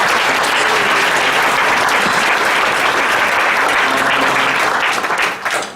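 A church congregation applauding during a Sunday worship service, a dense, loud roar of many hands clapping steadily, then tapering off at the end.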